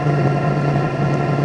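A diesel heater runs with its exhaust muffler fitted, giving a steady low hum with a constant tonal drone and faint combustion rumble, close up and fairly loud, with no talk.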